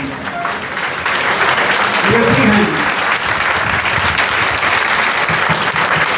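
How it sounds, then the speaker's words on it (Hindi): At GTB hospital, a standing audience applauds COVID workers such as ambulance drivers, police and civil defence volunteers; sustained, dense clapping from a crowd, with voices briefly audible beneath it. "एक बार खड़े होकर उनके लिए तालियां बजाएंगे आप लोग"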